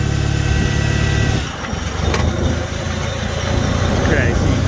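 Farmall tractor engine running steadily in first gear while mowing, a loud continuous low rumble with a brief dip in level partway through as the load shifts, close to the listener.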